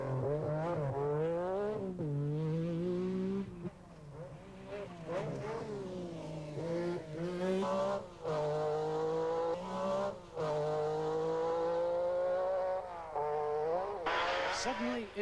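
A Metro rally car on the 1987 Circuit of Ireland accelerating hard, its engine revving up and down through repeated gear changes with brief drops between pulls, fairly close and continuous over gravel or tarmac stage.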